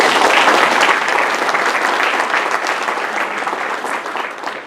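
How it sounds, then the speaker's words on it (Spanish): A church congregation clapping together, loud sustained applause that slowly fades toward the end, with no speech over it. "Denle palmas al Señor."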